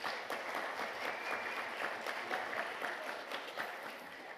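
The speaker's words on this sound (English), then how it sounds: "Give her a round of applause, please." Steady, dense applause from a conference audience, evenly sustained throughout at moderate distance with no pauses.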